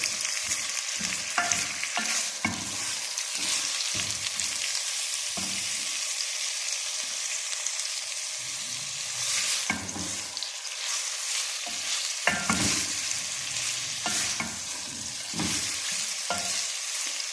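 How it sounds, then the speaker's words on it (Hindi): Onions softening in a pan for matar sabzi, an even sizzle carrying repeated rhythmic stirring scrapes, with no speech. "प्याज को हमने तब तक भूनना है बस ये हल्की सी सॉफ्ट हो जाए।"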